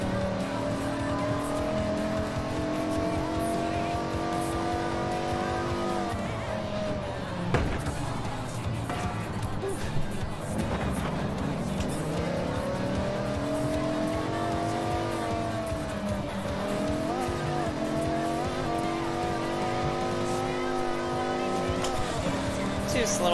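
Car in the Forza Horizon 6 racing game drifting through corners, engine droning and revving steadily with sustained tire squeal rising and falling, close and continuous, with a voice talking over it.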